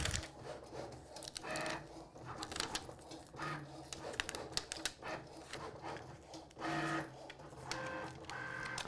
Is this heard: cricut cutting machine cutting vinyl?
yes